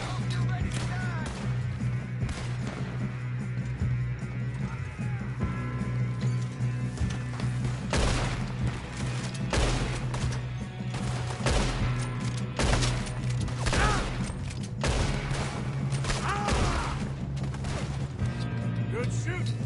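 Gunfire in the Red Dead Redemption 2 video game: repeated sharp shots and crashing impacts during a dense shootout over a constant backdrop of game sound, with voices speaking at times.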